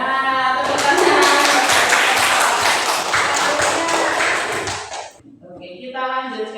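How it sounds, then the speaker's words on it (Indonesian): A classroom of students claps together during a lesson, a dense burst of applause lasting about five seconds before it stops abruptly, with voices in the room. "Ya, tepuk tangan."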